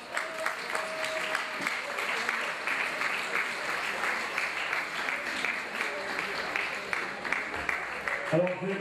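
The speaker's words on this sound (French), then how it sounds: "On peut l'applaudir, s'il vous plaît." Festival crowd claps steadily for several seconds at moderate distance, a dense even patter of applause with occasional sharper claps and brief voices near the end.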